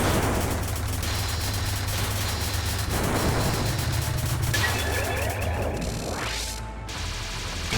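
A bomb going off in a Touhou shooter game, a dense crackling, booming wash of noise layered over continuous game sound effects, loud and sustained, with a rising sweep near the end.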